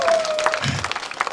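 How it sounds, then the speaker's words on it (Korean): A festival crowd at the Yeongilman black-stone eel festival claps in scattered, uneven applause, moderately close, with a faint tone and background noise beneath. "여러분들 열심히 한다고 박수 한번 주시오"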